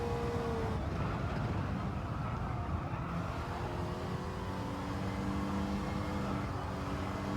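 A race car engine drones in the Gran Turismo 7 game at the Alsace track, a steady, buzzing roar that holds through the rev range with faint pitch shifts and no talk over it.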